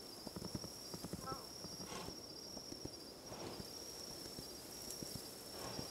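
Horse galloping in the video game Kingdom Two Crowns, rapid rhythmic hoofbeats over ambient crickets and faint breathy whooshes, fairly quiet with no talking.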